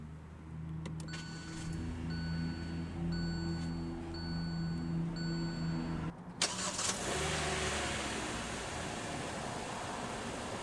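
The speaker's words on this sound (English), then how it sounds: "Put your foot on the brake and push the ignition." A 2020 Hyundai Elantra Value Edition started by push button: a steady cabin hum with intermittent electronic chimes, then a short cranking burst as the engine catches and settles into an even, close idle.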